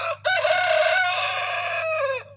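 A rooster crows loudly and close, one long sustained cock-a-doodle-doo, with a low steady hum underneath and no talking.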